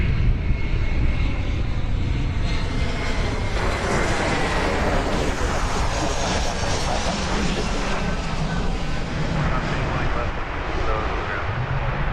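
An airliner departs DFW Airport, its jet engines producing a loud, continuous, broadband roar that stays close and steady through the whole stretch with no talk over it.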